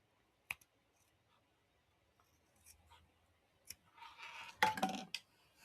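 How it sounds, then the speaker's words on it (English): Scissors trim bag fabric even with a zipper edge, giving a few faint clicks and then a louder, close snipping burst near the end, in a quiet room with no speech. "I'm going to trim the sides even with the side of the zipper."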